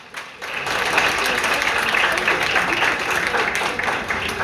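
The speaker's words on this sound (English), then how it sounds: "I'm sure you can see by the decibels or the loudness of their applause that you've done a great job" An audience at a Ghanaian youth business pitching summit bursts into loud, dense applause after a pitch, swelling quickly and holding steady, with faint voices underneath.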